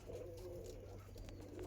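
Andhra Lambadi breeding pigeons in a loft, soft low cooing close by, steady and faint, with no talk heard.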